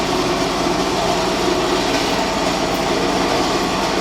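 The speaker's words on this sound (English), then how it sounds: "We still have a jetter going right now." Hydro jetter running inside a sewer line, a loud, steady broadband rushing roar with a faint rhythmic pulse underneath, continuous and unbroken, no talking.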